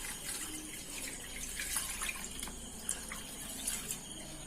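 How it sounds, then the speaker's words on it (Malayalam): Water poured into chopped tapioca in a pressure cooker, a soft, steady trickle and splash heard faintly and close by, with a few light drips and no voices. "ഇനി നമുക്ക് ഇതിലോട്ട് വെള്ളം ചേർക്കാം."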